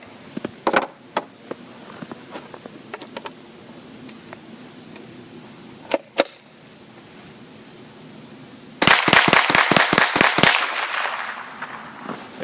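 A Henry AR7 rifle fires outdoors in arctic cold: scattered single sharp cracks, then a rapid string of about eight loud shots, with no talking.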